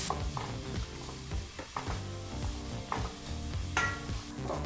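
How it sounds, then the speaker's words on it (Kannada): Onions fry in a pan over a medium flame, a dense constant sizzle with spatula scrapes and clicks at irregular intervals, close and steady throughout with no talking. "ಈಗ ಈ ಈರುಳ್ಳಿನ ನಾವು 4 ನಿಮಿಷಗಳ ಕಾಲ ಮೀಡಿಯಂ ಫ್ಲೇಮಲ್ಲೇ ಚೆನ್ನಾಗಿ ಫ್ರೈ ಮಾಡ್ಕೊಳ್ತೀವಿ"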